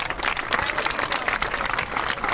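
An audience at a ceremony claps together in a steady, dense stretch of applause that fills the whole moment without any voices over it.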